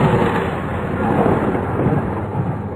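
Thunder rolls through a heavy rainstorm, a dense, steady rumble with constant rain-like noise that stays loud throughout.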